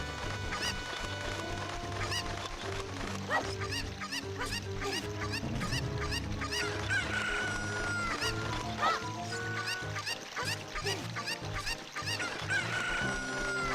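Chickens cluck and squawk repeatedly in The Legend of Zelda: Ocarina of Time, dense and busy over a steady game backdrop of music and effects, fairly loud throughout.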